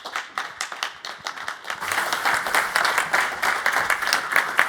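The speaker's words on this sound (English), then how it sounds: "please be upstanding with a huge round of applause for Andy" Audience applause greeting a conference speaker as he takes the stage, starting as scattered claps and swelling into steady, dense clapping from a large room that carries on to the end.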